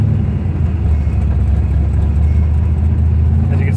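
A 1971 Corvette with a 454 V8 idles from inside the car, a steady low rumble holding even and fairly loud throughout with no talk over it.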